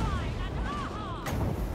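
Artillery firing in the fantasy battle game Total War: Warhammer 2, a short burst of booming blasts with whistling projectiles over a dense battle din.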